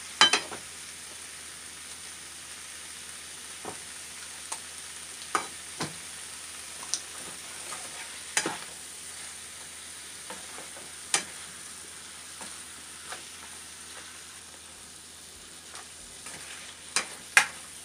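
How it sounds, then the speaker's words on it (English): Chicken pieces sautéing for Filipino apritada, a steady soft sizzle with sharp spoon clicks and scrapes against the pan at irregular intervals, close and alone. "Yan, isosaute lang natin siya"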